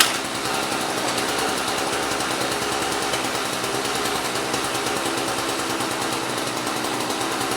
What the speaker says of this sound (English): run the mower until it's out and you know there's nothing in the carb